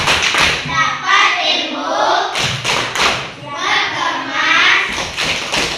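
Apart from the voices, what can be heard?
children's rhythmic 'tepuk pulang' clapping chant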